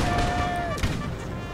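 A musket volley cracks once in the Napoleon: Total War video game, a single sharp burst over a steady background din of battle.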